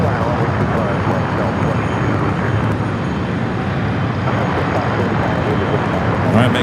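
A Delta Airbus A350-900 from Atlanta arrives at LAX, its jet engines a steady, loud, broad roar throughout, with radio chatter underneath.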